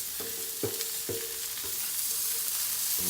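Asparagus and garlic get stirred in a hot pan with silicone tongs, a continuous close sizzle broken by several soft scraping strokes and taps across the whole stretch.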